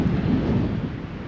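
Steady low rumble of strong wind buffeting a microphone at a lake in Harwood Forest, loud and continuous, with no voices.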